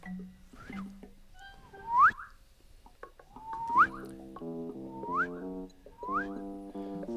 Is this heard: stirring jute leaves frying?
no